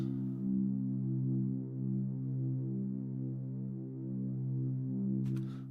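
A soft, sustained synth pad chord holds steady with a gentle pulsing throb, alone and warm, ending with a brief click.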